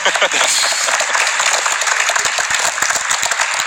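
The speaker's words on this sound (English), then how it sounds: "Now let's clap for Raven." A crowd applauding, dense clapping that fills the moment, loud and sustained for a few seconds, with voices mixed in under it.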